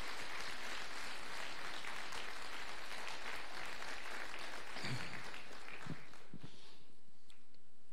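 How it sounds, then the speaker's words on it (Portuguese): Church congregation at a Sunday celebration service applauding, a broad steady wash of clapping from many people filling the room for the full stretch, with a few louder knocks midway. "Então aplauda o Senhor"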